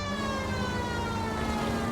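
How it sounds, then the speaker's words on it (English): A police car siren in the L.A. Noire video game wails as a loud, continuous tone that holds steady throughout, with no talking over it. "I've always found the siren useful in situations like this."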